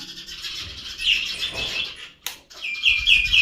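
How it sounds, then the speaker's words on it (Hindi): Small birds chirp in quick high-pitched bursts, clustered in several short sequences with a brief sharp knock in between, near and fairly loud over a quiet outdoor background. "चिड़िया चिड़िया चिड़िया,"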